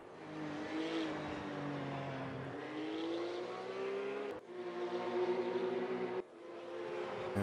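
Porsche GT3 Cup race cars at Mid Ohio in a racing video game drone steadily, engine pitch rising and falling through gear changes with brief dips, loud and continuous.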